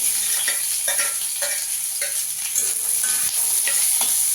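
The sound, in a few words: onion and garlic frying with dried chillies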